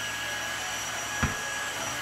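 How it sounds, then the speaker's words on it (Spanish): A Tineco Floor One S3 cordless floor vacuum runs with a steady, fairly loud motor whine and hiss, briefly bumping as it passes over something, with no talking. "en cuestión de 2 segundos, esto queda totalmente aspirado"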